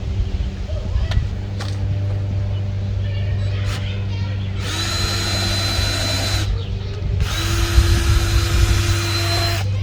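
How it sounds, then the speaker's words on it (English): Power drill boring a pilot hole into a piece of wood, whirring in two sustained bursts after some handling knocks, fairly close over a steady low hum. "We're going to drill into the piece of wood here so I don't crack it."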